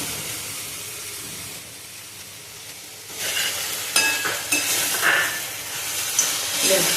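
Finely chopped garlic and green chillies dropped into hot oil in a pan, a moderate sizzle that bursts louder and crackles strongly as they hit, with stirring.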